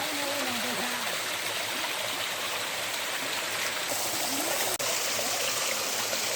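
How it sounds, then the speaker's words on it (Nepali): Water from a village spring source flows in a steady, close rushing trickle along a forest path, filling the soundscape evenly with a faint bird call early on. "यस्तो छ है पानीको मुहान हाम्रो।"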